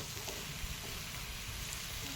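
Potatoes go into hot soybean oil with onion and chilli, giving a soft, even sizzle that stays faint and steady throughout, with no talking.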